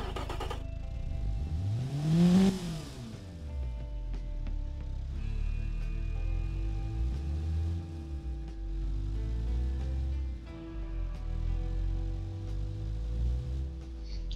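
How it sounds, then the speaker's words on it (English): A Mazda SkyActiv 2.0-liter four-cylinder car engine idles, then revs sharply once and settles back to a steady idle hum, heard up close with no talking. "Actually, now it sounds like the real engine."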